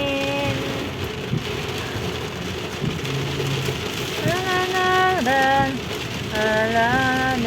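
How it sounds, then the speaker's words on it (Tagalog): Rain falls at night in Jeddah, a constant hiss and patter under intermittent tonal sounds and voices nearby. "Ay, ang ulan."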